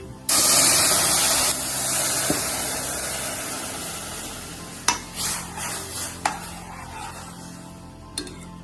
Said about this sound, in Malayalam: അവൽ വറുത്തതിന് ശേഷം പാൽ ചേർത്ത് കൊടുക്കണം